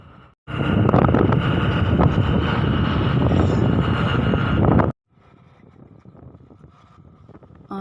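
Strong wind roars loudly across the microphone in a sustained blast, then cuts off abruptly, leaving a quieter gusty rustle.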